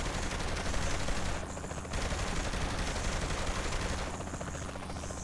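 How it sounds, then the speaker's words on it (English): Enemy gunfire in the video game Saints Row the Third, a dense, continuous rattle of shots and bursts that stays loud and steady throughout, without talk. "They're just shooting at us."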